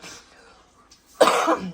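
A single sharp cough, close and loud, after a moment of quiet with faint voice.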